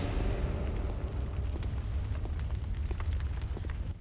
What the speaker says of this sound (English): Everything's on fire!